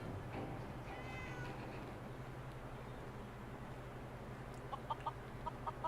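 Cats meow in the Fallout 4 video game, heard as faint, brief calls over a steady low ambient hum, with a few short chirps near the end.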